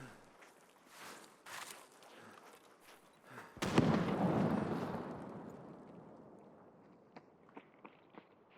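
A distant grenade blast in Escape from Tarkov booms once and rolls away in a long fading rumble, preceded by faint scattered thumps and footsteps.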